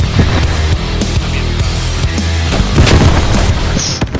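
Explosive charge blowing up a barricade in the Squad 44 WWII video game, heard as repeated heavy booms and thuds within a loud, continuous battle din of gunfire.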